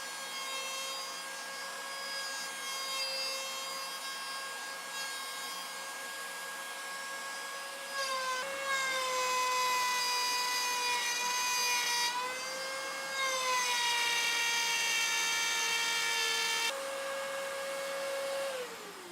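A power tool cuts out the inside of a wooden circle, guided by two bearings as the piece rotates, while building a small shop vac cyclone dust collector. It gives a steady, close, high-pitched whine that shifts pitch a few times, with no talk.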